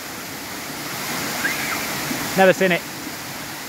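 A waterfall on Nosy Be, Madagascar, gives a constant broad rushing roar beneath the scene while someone talks briefly over it.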